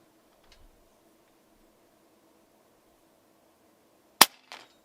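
A single sharp crack from an Air Arms S510XS Stealth .177 carbine firing a JSB pellet, followed a moment later by a fainter metallic tick and rattle. The rest is quiet apart from a low background hum.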